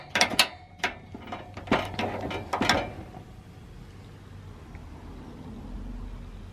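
A Mr. Buddy portable propane heater is switched on and lit in a van, giving a quick run of sharp mechanical clicks and ratcheting snaps, then a soft steady hiss as it burns.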